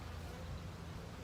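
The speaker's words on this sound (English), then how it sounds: "Trying to find a bee inside of a couple thousand other bees." Honeybees buzz steadily in a dense, low, continuous hum from an opened hive during an inspection, heard alone and close for a brief moment.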